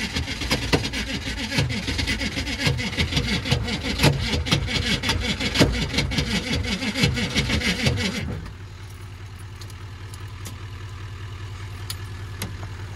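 A Detroit Diesel engine runs roughly with a rapid scraping, rubbing rattle from its fan rubbing on parts, then the rattle stops and a lower steady hum continues.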